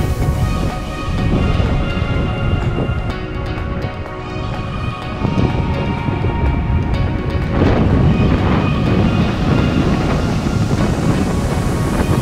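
Strong wind buffets the microphone of a bicycle on a blustery, flat stretch of Lincolnshire countryside, a loud, continuous roar with gusty surges throughout and no voices.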